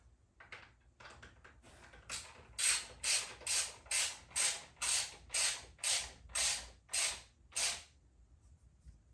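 A hand ratchet clicks in a steady series of strokes while bolts are snugged down on a motorcycle, close and fairly loud, with no talking.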